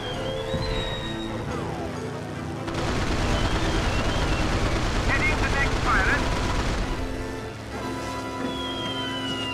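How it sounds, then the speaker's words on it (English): Artillery shells fired during an air combat mission over Normandy in the video game Secret Weapons Over Normandy, heard as a dense, continuous roar of booming fire layered under engine drone and radio voices, loud and sustained through the middle. "They're firing shells, trying to bracket us."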